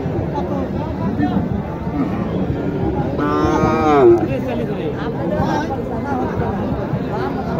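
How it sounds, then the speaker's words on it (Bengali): A large crossbred bull moos once, loud and close, at a busy cattle market in Naogaon, with steady crowd chatter and voices around it. "দেখেন, এখানে একটি বড় গরু আছে,"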